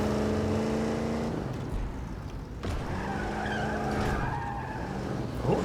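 Vehicle skidding in the video game Halo CE, a gritty engine roar breaking into scraping tire noise, with a sharp impact-like burst midway and more skidding after.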